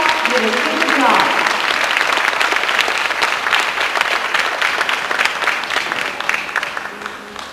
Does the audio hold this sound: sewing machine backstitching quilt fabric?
no